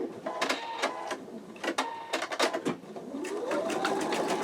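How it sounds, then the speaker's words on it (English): An embroidery machine stitches an in-the-hoop wallet, starting with a series of sharp clicks and rattling bursts before settling into a steady, continuous mechanical whirr, close by. "I'm going to go ahead and start the stitching"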